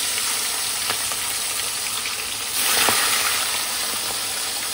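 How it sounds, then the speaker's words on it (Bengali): A fish head fries in a pan with a constant close sizzle that swells briefly midway, with no talking. "মাছের মাথাটা ভেজে"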